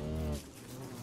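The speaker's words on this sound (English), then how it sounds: "There's lots of bees in the flowers." Bees buzzing around flowers in the video game Don't Starve Together, a brief low droning hum that fades quickly into faint background.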